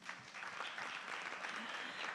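Soft, continuous applause from a small audience at a ministerial conversation event, faint and steady without breaks.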